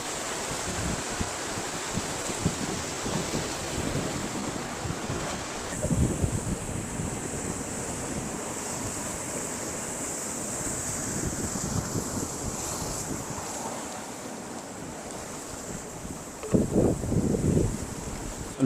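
Ocean surf washes against an open sea shore near Mubarak Village, Pakistan, a steady rushing roar mixed with strong wind buffeting, with heavier wave surges now and then and no voices.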